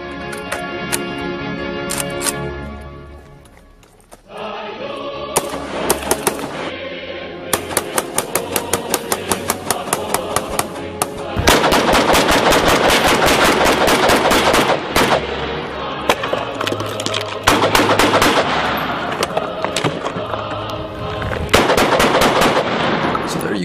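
AK-47 gunfire aimed at a stack of iPhones: loud, close rapid-fire bursts and repeated sharp shots ring out almost continuously, with a few brief pauses between volleys.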